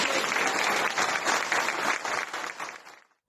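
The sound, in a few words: audience applause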